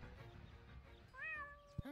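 A cat in the point-and-click game Deponia lets out a clear, close meow with rising pitch, followed by a short thump over faint game background and some speech.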